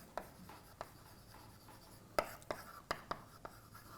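Chalk or marker writing on a board during a mathematics lecture, with a series of faint, sharp taps and short scratchy strokes in an irregular rhythm, over a quiet room with soft murmured speech.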